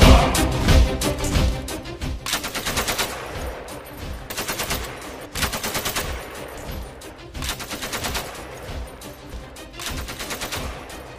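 Rapid bursts of gunfire, like an automatic weapon, used as a sound effect in an Urdu-language radio science drama about robots and artificial intelligence. The volleys come in loud, repeated clusters across the whole stretch, with no talking.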